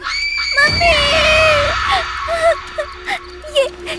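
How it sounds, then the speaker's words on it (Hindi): A woman's loud, sustained scream rings out close and piercing, then breaks into shorter wavering cries, set in a Hindi horror story scene beside a scarecrow near a well. "उसे देखकर जोर से चिल्लाई"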